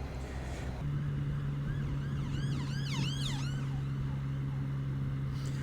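Ambulance siren wailing in rising and falling sweeps, moderately distant, over a steady low road hum heard from a motorcycle.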